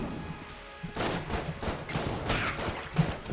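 Rapid gunfire from the Void Core gun in Enter the Gungeon, a dense fusillade of bursts that keeps going loud and close with no pauses.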